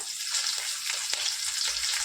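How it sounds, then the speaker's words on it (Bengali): A bay leaf and slit green chillies sizzle in hot oil, giving a quiet, steady hiss with small crackles and no talking. "ফোড়নে দেবো একটা তেজপাতা তিন চারটে কাঁচা লঙ্কা চেরা"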